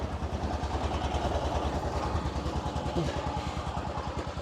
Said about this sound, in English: The engine, by the way, idles at like 300 RPM. It's kind of what it sounds like.